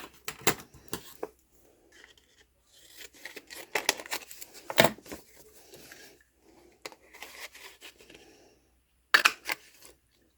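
Quick crisp snips and rustles come in irregular bursts, scissors cutting through paper up close for a collage, with brief quiet gaps between cuts.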